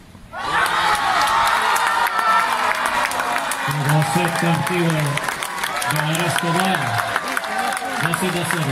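A crowd at a Challenger tennis tournament in Guayaquil applauds and cheers for the doubles champions, sustained loud clapping with whoops and excited shouting, and voices calling out over it.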